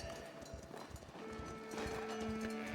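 Horse hooves clip-clop in the video game Foundation, a steady close trot heard over a soft ambient backdrop.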